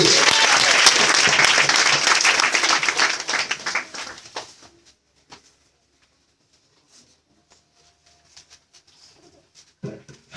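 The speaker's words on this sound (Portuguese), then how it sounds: "Dê uma salva de palmas ao Todo-Poderoso." A church congregation breaks into dense applause that fades out after about four seconds, leaving near silence with faint pigeon-like cooing and a few scattered sounds.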